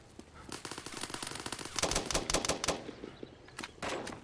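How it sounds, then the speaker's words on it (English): Quick successive Glock pistol shots fire in the online shooter BRM5, a fairly quiet run of sharp cracks with brief pauses between clusters. "Here's our Glock. It is also single fire."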